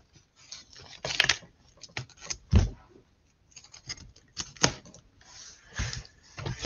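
Cardboard or plastic packaging around a vinyl record being cut along the top, a series of short scraping, snipping and crinkling bursts spread over several seconds, close up and moderately quiet.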